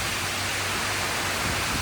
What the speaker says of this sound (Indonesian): Pagi hari bangun tidur udah disambut dengan hujan kencang, angin kencang.